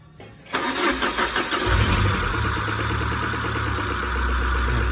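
A Peugeot 406 with an engine that is hard to start and leaking compression cranks briefly, then fires up loudly and settles into a rough, steady idle, close to the microphone.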